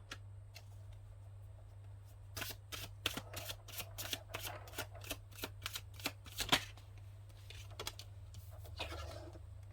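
Tarot cards being shuffled close up, a quick run of crisp riffling flicks and slaps in a quiet room with a steady low hum underneath.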